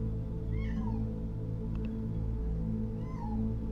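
A male house cat meows indoors, two drawn-out cries about two seconds apart over a steady low background hum.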